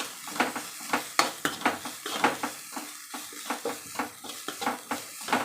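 Ground coconut paste with garlic and cumin frying with potatoes in a pan, stirred with a utensil that scrapes in quick repeated strokes over a soft sizzle, close and without speech.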